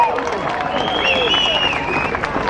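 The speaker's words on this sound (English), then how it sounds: "Should we give them a big round of applause for getting through all that traffic and police barriers?" Crowd applause and cheering at the London climate change march of 2009, a dense outdoor wash of clapping and voices with whistles and shouts over it, steady throughout.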